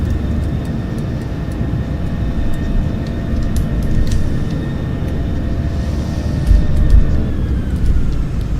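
A Boeing 737-600 airliner braking on the runway after landing, heard from inside as a loud, steady low rumble and roar throughout, with a few faint clicks and ticks on top.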